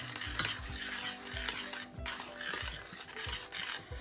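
Homemade fruit sauce cooking in a pot on the stove, with a soft bubbling sizzle under repeated spoon-stirring scrapes against the pan, close and fairly quiet.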